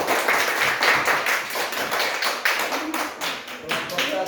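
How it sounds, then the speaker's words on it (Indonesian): Children clapping together for a classroom group, a steady stream of overlapping hand claps throughout, fairly close and even in loudness. "Mari kita tepuk tangan untuk kelompok 2."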